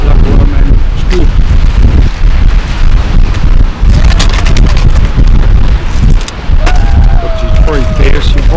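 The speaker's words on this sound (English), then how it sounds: "If I stick you around the corner for a minute, you'll probably hear the wind change" Strong wind blows across Dungeness shingle beach and buffets the microphone hard, making a loud, continuous roaring rumble. Faint higher tones drift through it.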